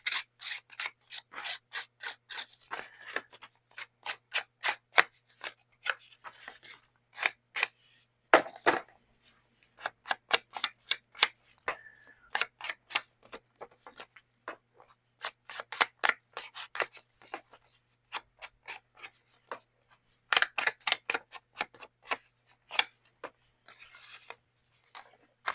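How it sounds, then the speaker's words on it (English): Scissor blades scraping along paper edges to distress them for a junk journal, a long series of quick, dry rasping strokes in bursts with short pauses, close and alone without talk. "I'm trying to distress this a little bit, and the scissors might do better."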